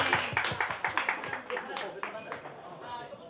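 A handful of people clap in a quick, uneven burst to welcome an arriving guest on a small Japanese talk show, with the clapping tapering off as a voice continues over it.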